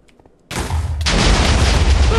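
In Minecraft, an explosion booms after a brief quiet start, a sudden loud blast that swells into a sustained rumbling roar, heard up close.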